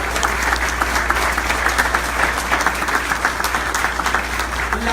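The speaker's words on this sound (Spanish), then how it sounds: "¿Puedes darle un fuerte aplauso al Señor?" A church congregation gives a strong, sustained round of applause during a sermon, with steady, even clapping from many hands filling the room from start to finish.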